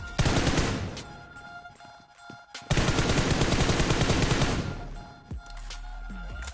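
Heavy automatic gunfire in the battle royale game PUBG, loud dense bursts of rapid shots with a short pause, then a final trailing burst.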